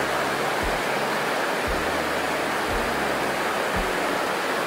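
A rushing river in the Cumbrian fells, heard up close during a crossing as a loud, constant broadband roar of water, with a few dull low thumps recurring about once a second.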